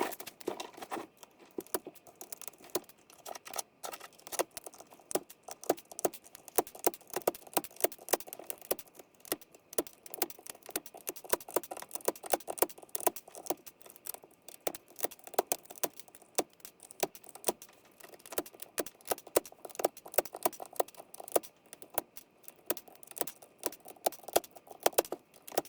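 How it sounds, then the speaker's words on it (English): Mechanical switches are pulled one after another from a keyboard, giving a dense run of sharp plastic clicks and scrapes at an uneven, busy pace, close up, with no voices. "Now I just have to go ahead and pull all of these switches."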